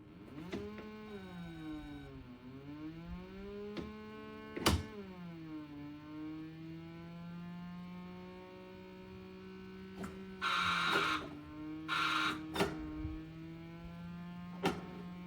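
Original Pole Position arcade racing game running on a MAME cabinet: a steady electronic engine tone rising and falling with gear changes, punctuated by sharp clicks and bursts of crash or skid noise, loud and continuous without talk.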